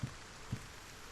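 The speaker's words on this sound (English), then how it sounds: "Oh, it's raining." Rain falls in the video game Solarpunk as a steady, quiet wash of broadband noise, with two soft low thumps in the first half.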